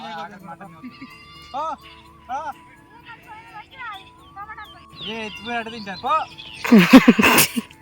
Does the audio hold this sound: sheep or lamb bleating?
yes